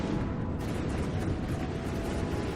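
A big cannon barrage from a warship firing high-explosive missiles in the naval game From the Depths: a dense, continuous rumble of overlapping booms and blasts, loud and sustained with no pauses.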